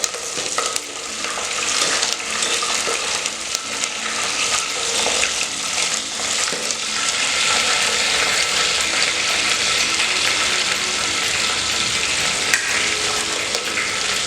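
Dried red chillies, slit green chillies and curry leaves sizzle steadily in hot oil while tempering for hotel-style sambar, a continuous close crackle and hiss with stirring clinks and no talk.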